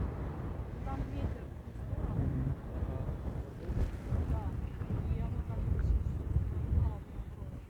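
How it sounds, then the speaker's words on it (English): Strong wind gusts across the Geldingadalur lava field beside the erupting volcano in Iceland, a steady broadband rush and buffeting against the microphone that swells and ebbs throughout, with voices faintly present underneath. "now winds got stronger"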